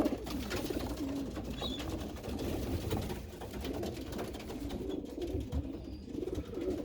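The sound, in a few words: pigeons in an aviary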